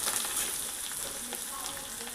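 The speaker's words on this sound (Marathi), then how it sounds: "कोथिंबीर ही तेलामध्येच टाकायची परतताना." Chopped coriander sizzles and fries in hot oil in a pan, a steady close crackling with no talk.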